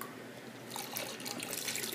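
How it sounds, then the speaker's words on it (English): Liquid poured into home-brewed all-grain wort, a steady watery splash that grows fuller and brighter partway through, close and alone. "pour it into the wort."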